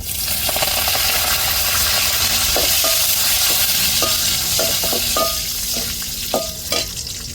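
Mustard seeds, fenugreek and curry leaves fry in hot oil for a tamarind kuzhambu with okra, giving a loud, continuous close sizzle. Scattered crackles and pops come through as the pan is stirred.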